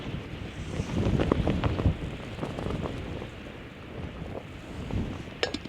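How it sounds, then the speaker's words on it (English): Gusty wind buffets the microphone, rumbling loudly and easing off in waves with no one speaking. "it is so windy"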